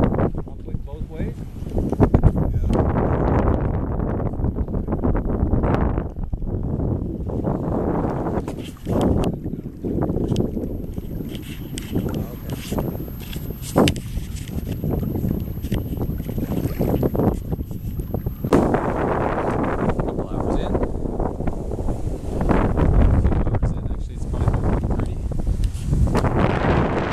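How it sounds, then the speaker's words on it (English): Strong wind roars across the microphone aboard a sailboat racing at sea in the Southern Straits, a steady loud buffeting rush with water noise beneath and voices talking intermittently. "Stronger winds."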